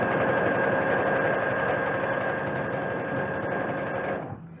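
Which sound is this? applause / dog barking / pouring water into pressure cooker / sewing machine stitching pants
sewing machine stitching pants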